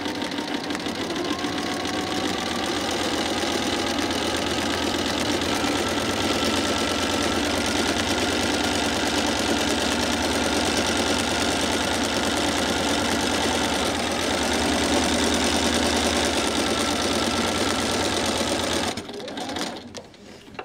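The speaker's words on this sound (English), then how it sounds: "I'm gonna just stitch a straight line down." Sewing machine running steadily while stitching a straight line for a cross hatch pattern, a continuous close motor hum with rapid needle chatter that holds for about nineteen seconds before stopping abruptly.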